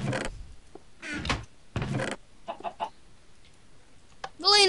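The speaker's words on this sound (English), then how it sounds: "Chicken, get out!" Minecraft chickens cluck in several short, choppy bursts, spaced irregularly and fairly close, with a sharper squawk at the end; no talking.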